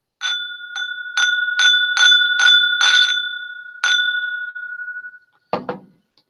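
Bright, ringing clinks of glasses in a rum toast, several quick taps in a row followed by a longer sustained ring that fades, then one short final knock, loud and close.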